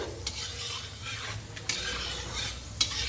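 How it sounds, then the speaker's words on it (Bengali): Cashews fry lightly in a pan for Bengali basanti pulao, sizzling softly and steadily. A spoon scrapes and taps the pan three times. The sound is close and quiet, and no one speaks. "কাজুটা হালকা করে ভেজে নেব"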